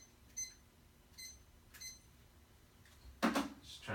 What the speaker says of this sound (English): Just trying to get some nice doctorly beep sounds.